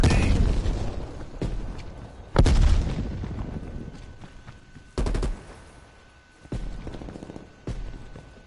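A grenade detonates with a sharp, loud blast in the Black Ops Cold War beta, trailed by a rumbling decay, with further booms and bursts of gunfire punctuating the match afterward.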